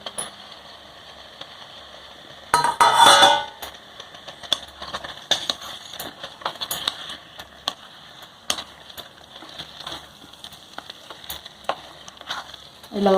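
Cut mushrooms drop into a frying curry pan with a brief loud sizzle burst, followed by soft scraping stirs and intermittent light clinks of a spatula against the pan.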